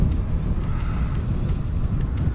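A Xiaomi Mi Drone flying nearly level, giving a steady, fairly loud broadband whir with a rough low rumble that holds evenly throughout, with no voices.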